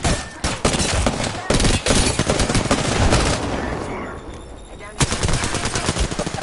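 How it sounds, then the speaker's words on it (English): Loud, rapid bursts of automatic gunfire in a shooter video game, volleys repeating with short gaps and sharp single shots near the end. "keep shooting teammate, keep shooting"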